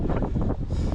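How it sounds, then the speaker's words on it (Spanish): Gusty wind buffets the microphone on a beach on a windy day, a loud, rough, continuous rumble with uneven surges. "Pasa que, como veis, el día de hoy es ventoso."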